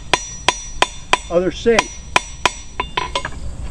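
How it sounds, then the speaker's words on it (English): A blacksmith taps an iron nail with a hammer in sharp, evenly spaced metallic strikes, with a brief spoken phrase partway through and a quick run of lighter taps toward the end. "But I smoothed it down just by tapping."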